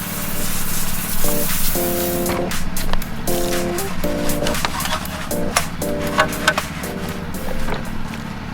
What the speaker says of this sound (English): we're going to be foaming up this wheel